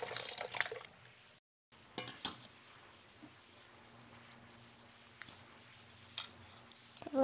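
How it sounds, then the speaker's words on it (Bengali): Eggplants being washed in water, with sloshing and dripping splashes at the start and end and a quieter low background between, some isolated small drips and rustles. "আমি বেগুন কটা ধুয়ে নিচ্ছি"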